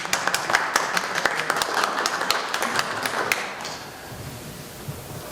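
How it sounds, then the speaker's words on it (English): A small group at a Coos Bay city council meeting claps for Nicole, a few seconds of crisp, moderately loud applause that tapers off into room noise. "I feel like we need to clap for Nicole."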